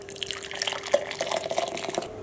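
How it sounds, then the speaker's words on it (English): Tea pours through a huge mesh strainer, a close run of irregular drips and liquid trickles with small splashes, steady for a couple of seconds without talk. "I'm just gonna use this huge mesh strainer to strain my tea."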